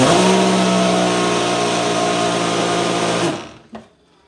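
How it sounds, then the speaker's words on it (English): A small Ninja personal blender whirs loudly and steadily for about three seconds, then cuts off, followed by a single light clunk. "I'm just using the little personal Ninja blender"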